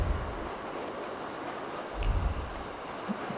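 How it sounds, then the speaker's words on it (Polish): Trains rumble past at a distance in a Warsaw street scene of the video game The Thaumaturge, a faint low rolling drone with two heavier swells and no talk. "Pociągi jadą."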